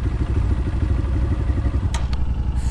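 A dirt bike motorcycle engine at a family desert outing runs steadily at close range, a loud low rumbling drone with a pulsing beat and no talk over it.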